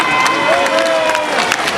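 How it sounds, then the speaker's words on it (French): An audience applauds at a political party investiture congress in Niger, a dense wash of clapping and crowd noise from a large hall, with a voice over the loudspeaker briefly audible through it. "Et ça s'applaudit encore une fois de plus, mesdames et messieurs."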